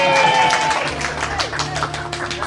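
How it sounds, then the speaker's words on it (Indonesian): An audience claps at a school alumni reunion gathering, a dense patter of hands running throughout with voices mixed in over the top. "Oke, terus tepuk tangan dong,"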